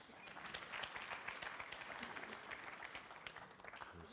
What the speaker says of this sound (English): A smattering of applause just about frame ball